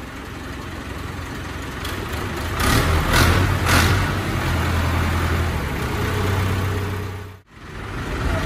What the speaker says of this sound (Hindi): ये मुख्तलिफ ट्रैक्टरों पर स्टार्ट करके पसंद करके अपनी तसल्ली से लेकर जाएंगे।